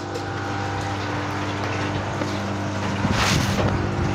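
Strong water flow from a pump system on fiber tanks at a goldfish farm rushes steadily with a low mechanical hum, growing slightly louder near the end.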